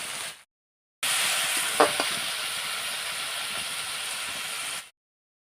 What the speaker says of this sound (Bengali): 5 মিনিটের মতন আমি এটা নেড়ে চেড়ে নেব, যাতে মশলাটা মোটামুটি হয়ে আসে।